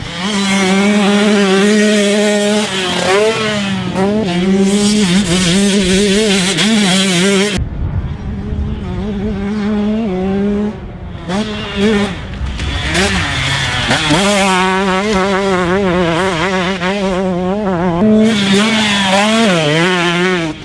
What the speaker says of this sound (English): How was the 2021 KTM 125SX on the track after MXA's first day of testing?